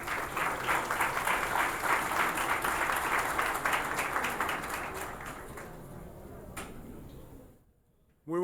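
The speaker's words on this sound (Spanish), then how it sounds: "a quien recibimos con un fuerte aplauso en este escenario" Audience at a Dominican industry anniversary celebration applauding to welcome a speaker to the stage, a loud sustained wave of clapping that thins and fades out to near silence.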